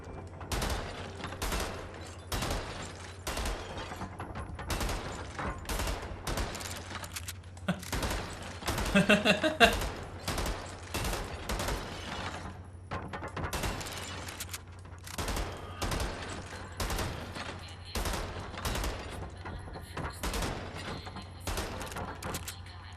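Repeated gunfire in Wolfenstein: The New Order, sharp shots fired in quick irregular bursts for the whole span, with a steady low hum underneath and a louder cluster of impacts midway.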